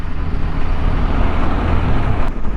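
A heavy lorry passes on the road with a loud, steady broadband rumble of engine and tyre noise that fills the whole stretch. No voices.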